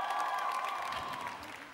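Audience applause and cheering at a televised Broadway-style dance competition final, a steady broadband clatter lasting about two seconds with a sustained tone ringing through it, likely stage music.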